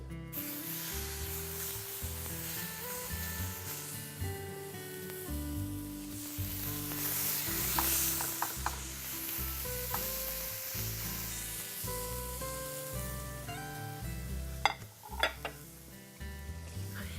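Marinated coriander chicken sizzling loudly in a hot pan, a dense steady crackle with occasional scraping and utensil clinks as the pieces are turned.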